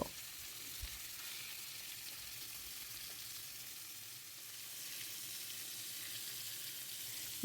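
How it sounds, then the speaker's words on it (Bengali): Pieces of rohu fish fry in a pan over high heat, giving a steady, even sizzle that runs throughout at moderate level with no talking. "মাছগুলো আমি সবগুলো একে একে দিয়ে দিব ফ্রাই প্যানের মধ্যে তারপর আমি চুলাটা একদম হাই জালে দিয়ে দিব আর ধীরে ধীরে আমি মাছটা ভেজে নিব"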